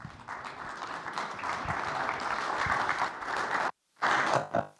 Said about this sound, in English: You shouldn't applause because you haven't heard me yet.